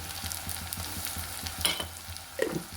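Ginger garlic paste fries in a pan while being stirred, with a busy crackling sizzle under scraping and a couple of sharper clinks near the end, fairly close and with no voices.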